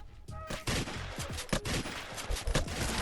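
Shotgun blasts in the mobile survival game Wall of Insanity 2 fire in quick succession, a rapid string of loud, sharp, overlapping bursts with only brief gaps between them.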